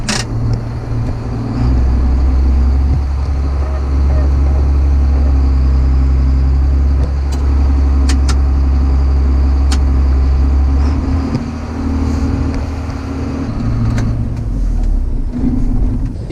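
7800 tractor driven away after a hydraulics test, its engine droning steadily and loudly up close with slight rises and dips in load over a long stretch.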